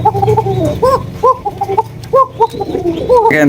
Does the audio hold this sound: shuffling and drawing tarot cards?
no